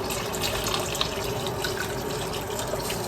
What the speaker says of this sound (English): we're going to add some water to this stock